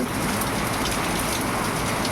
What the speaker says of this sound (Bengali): তখন কি জোরে বৃষ্টি শুরু হয়েছে বাবা